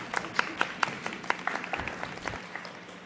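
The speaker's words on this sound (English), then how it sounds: "I just want to give everybody a round of applause." Applause from a crowd at a city council meeting, steady clapping with a few sharper claps standing out, fading slightly toward the end.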